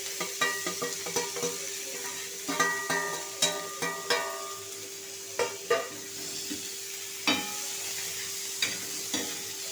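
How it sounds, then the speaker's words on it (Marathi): Fresh baby prawns fry with spices and salt in a pan. A spoon stirs them in a series of close scraping clinks over a continuous soft sizzle, and the stirring grows sparser toward the end. "हे छान परतून घ्यायचे आहे आपल्याला।"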